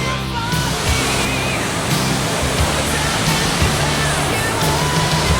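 A pressure washer spraying water onto a bug-spattered bike, a loud, steady, close rushing spray that never stops and runs alone with no talking.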